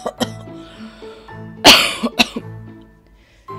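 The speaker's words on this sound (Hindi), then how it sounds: "कुटिया नजर आती है जिसमें से खांसने की आवाज आती है।" Several harsh coughs break out, one heavy burst in the middle with shorter ones around it, mixed with throat clearing and faint vocal sounds.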